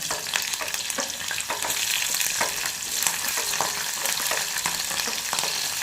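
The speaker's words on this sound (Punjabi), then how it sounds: "ਤੇਲ ਵੀ ਗਰਮ ਹੋ ਗਿਆ ਇਹਦੇ ਵਿੱਚ ਪਹਿਲਾਂ ਆਪਾਂ ਮਿਰਚਾਂ ਐਂ ਪਕਾ ਲੈਣੀਆਂ ਚੰਗੀ ਤਰ੍ਹਾਂ" Green chillies frying in hot oil in a pan for chutney, a loud continuous sizzle and crackle with scraping stir strokes, close up and with no talking.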